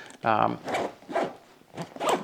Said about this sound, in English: I love these reverse coil YKK zippers.